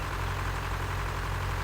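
A red tractor engine in Farming Simulator 2013 drones at a steady idle, a continuous low hum with no breaks or revving.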